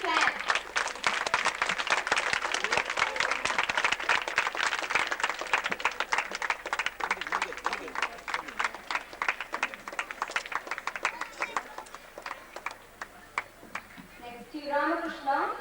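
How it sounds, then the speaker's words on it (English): An audience at a school talent show applauds steadily with dense, sustained clapping that thins toward the end, where a voice begins speaking over it. "Give him a big clap."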